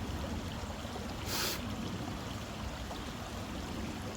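Creek water flows in a steady, soft wash outdoors, a constant quiet babble with one brief brighter splash partway through.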